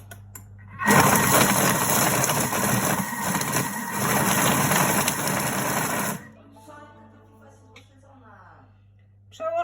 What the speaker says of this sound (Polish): Wszystko nam się będzie teraz 5 sekund miksowało.